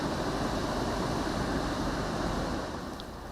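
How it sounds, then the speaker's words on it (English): Strong winds and heavy surf lash Okinawa island during Typhoon Doksuri, a dense, steady roar of wind and crashing waves that eases slightly toward the end. "Japan's Okinawa island was battered by strong winds, heavy rain and destructive waves"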